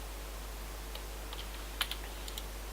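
A few computer keyboard keys are pressed while working in 3D modelling software, giving sparse, light clicks, the loudest pair near the middle, over a low steady hum.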